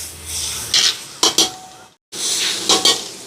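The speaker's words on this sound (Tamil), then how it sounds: "இப்போ தக்காளி பழம் கொஞ்சம் வதங்கட்டும்" Tomatoes sauté in a pan with a low, steady sizzle, broken by a few sharp scrapes and clinks of a spoon against the metal and one brief gap of silence.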